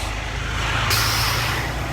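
A truck idles and rumbles on a street in Gettysburg, Pennsylvania, with a sharp hiss of air brakes releasing partway through, steady and fairly close with no talk.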